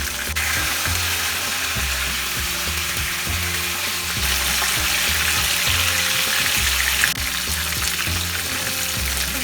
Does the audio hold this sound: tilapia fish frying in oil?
yes